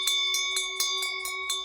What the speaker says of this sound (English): Hark, there's the bell.